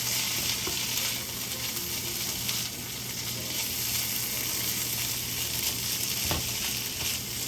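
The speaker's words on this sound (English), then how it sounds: "put my vegetables right on top of those and start mixing them together" Vegetables sizzle in a frying pan as they are mixed together, a steady close hiss with occasional soft scrapes and knocks.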